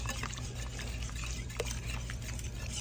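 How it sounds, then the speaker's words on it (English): Seasoned pot roast broth whisked in a pot, a continuous wet swishing and sloshing of liquid with faint clinks, close and steady throughout. "So I'm just gonna like whisk that around."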